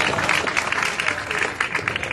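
Dense, steady applause from an outdoor crowd at a March 15 speech on the Liberty Bridge, continuous clapping filling the whole short stretch at moderate loudness.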